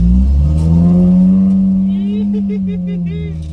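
A broken Dodge Ram 50 pickup drifts at golden hour with a loud, close engine drone that holds steady and then sags slightly, with voices talking over it.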